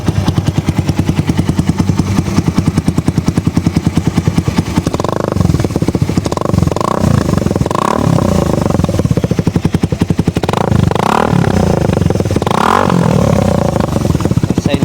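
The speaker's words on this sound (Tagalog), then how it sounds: "Silencer ba yan? Parang walang silencer, ingay." A Suzuki Raider 150 motorcycle runs loudly with a harsh, raspy exhaust. Its engine is revved up repeatedly, rising and falling in several strong surges over a constant rough idle, heard close and with no talking.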